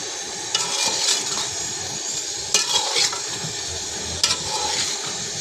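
Spiced beef being stirred and fried in a pot, with a steady close sizzle and repeated scraping strokes of a utensil, three sharper clatters standing out, no voices.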